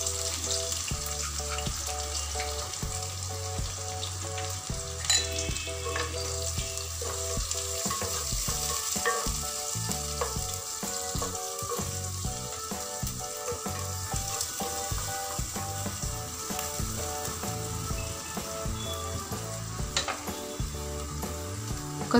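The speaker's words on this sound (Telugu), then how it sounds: "నెక్స్ట్ సన్నగా తరిగి ఉంచుకున్న ఆనియన్ ముక్కలను కూడా వేసేసుకున్నాము." Thinly sliced onions fry in a pan with jackfruit seed curry ingredients, a constant close sizzling hiss with occasional stirring clinks and scrapes throughout, no talking.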